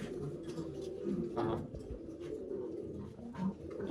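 Racing pigeons cooing in a loft, soft repeated low coos close by in a quiet room, with faint murmured talk in the background.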